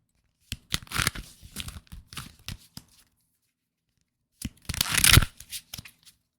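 Crisp papery riffling of tarot cards being shuffled in two bursts, a series of quick flicks, a pause of silence, then another close flurry.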